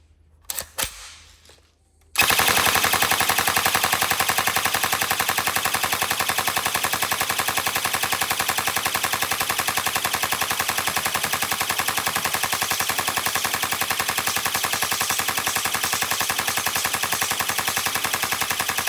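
A Tokyo Marui MK46 airsoft gun fires a long, rapid, unbroken burst of sharp mechanical clicks, loud and close, after a few quiet handling knocks at the start.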